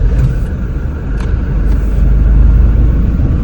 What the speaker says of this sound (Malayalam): അപ്പോൾ അങ്ങനെ വീട്ടിൽ നിന്ന് ചാവി വാങ്ങി ഞാൻ വണ്ടി കയറിയിരുന്ന് വണ്ടി ഒന്ന് സ്റ്റാർട്ടാക്കി.